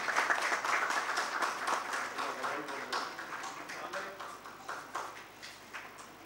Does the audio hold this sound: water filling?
no